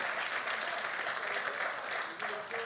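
A church congregation applauds at a pastors' ordination service, a dense, steady burst of clapping that fills the room and carries on without a break, with a few voices faintly underneath.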